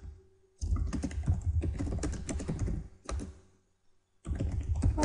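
Text is typed on a computer keyboard in two bursts, a four-second run of rapid close key clatter, then a brief pause before typing resumes.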